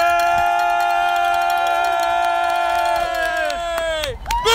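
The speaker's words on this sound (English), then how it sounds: "That was the most delayed cheer from a crowd ever for a win of a game." Crowd cheers and shouts at a quidditch match right after a win, BGSU beating Richmond with a snitch catch; a steady wash of voices rises and holds for several seconds, with a strong tonal shrill layer running through it.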